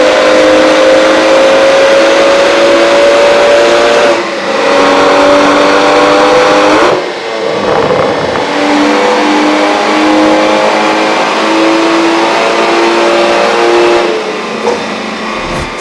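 A turbocharged BMW M140 with a 6-speed manual, upgraded 550i clutch and flywheel, revs hard through several rising pulls with brief dips at gear changes, loud and close throughout.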